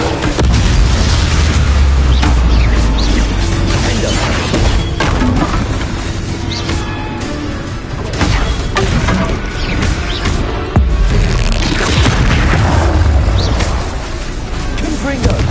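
Confringo and Bombarda spell explosions in the Hogwarts Legacy video game boom and crash repeatedly in dense, loud bursts, with a voice calling out over the chaotic blasts.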